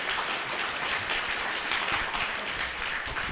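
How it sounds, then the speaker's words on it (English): Steady, dense applause from a conference audience at an agile event, a continuous wash of many hands clapping at even loudness throughout with no voices on top. "Big applause for Claudio"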